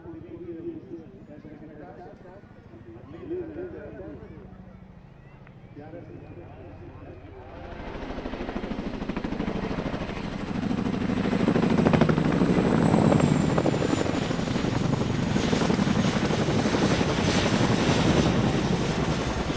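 A Spanish Army CH-47 Chinook helicopter flies at an airshow during a parachute drop; its rotor roar swells in partway through and stays loud and sustained, while a narrator talks over it.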